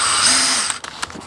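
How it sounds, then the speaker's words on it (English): A close power drill whines steadily as it punches holes in rusty Chevy II car sheet metal, then winds down into a few short clicks and taps. "Grab the drill, and we're gonna punch some holes in it"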